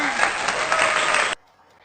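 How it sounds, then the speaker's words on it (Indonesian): Classmates in a classroom clap for a student: a short burst of dense, brisk applause that stops abruptly, leaving quiet room tone. "Tepuk tangan untuk temannya."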